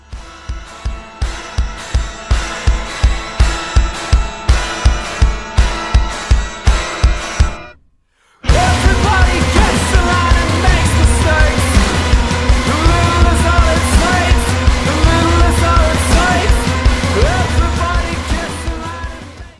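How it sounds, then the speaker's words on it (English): A noise-rock song opens with a pounding, evenly pulsing rhythm, breaks off in a brief silence, then surges into a dense wall of buzzing, swarming distorted guitar riffs that stays loud to the end. "the riffs just sound like this noisy swarm of insects"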